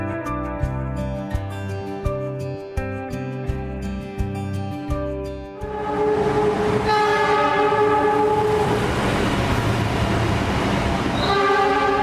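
Kamandaka passenger train departing Purwokerto station for Semarang Tawang at night, wheels clicking over rail joints, then a loud sustained horn blast with engine roar building and lingering to the end.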